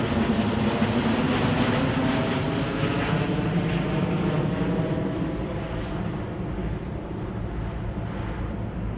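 Airbus A350-900 twin-engine jet with Rolls-Royce Trent XWB turbofans taking off at an air show, a loud, steady broadband engine roar that stays strong the whole time and eases slightly toward the end.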